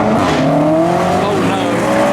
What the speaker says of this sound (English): we've got the Mark 5 just spun out